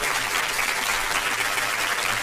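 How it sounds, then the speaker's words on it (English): Audience clapping to welcome a guest on a live stream, a dense, steady burst of applause throughout with no pauses. "Clap it up for him, bro, please."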